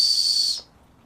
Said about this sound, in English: let's install this turbo kit, see what it sounds like.